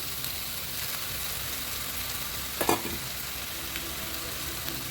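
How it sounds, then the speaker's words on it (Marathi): Biryani masala sizzles steadily in a hot pan as yogurt is added, giving a dense, even frying hiss with one brief louder crackle partway through. "ह्याच्यामध्ये टाकते आता थोडंसं दही"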